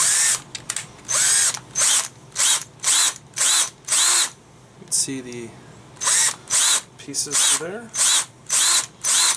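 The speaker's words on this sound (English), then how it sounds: "Add a little drilling there." A power drill bores out a holster rivet held in a vice grip, running in repeated loud bursts of about half a second to a second with short gaps, while someone talks briefly between them.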